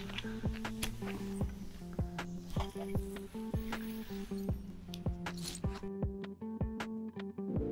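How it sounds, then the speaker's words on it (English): A zipper is drawn along the front of a mosquito net screen room in a series of quick rasping pulls, each a short burst, close up and repeated about a dozen times with no talking. "And then you just saw me put on the zipper at the front."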